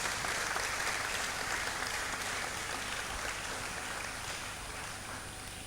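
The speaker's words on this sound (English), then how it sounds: "he deserves another round of applause" An audience at an inaugural university lecture applauds the lecturer, a dense, even wash of clapping that holds steady and then eases slightly toward the end.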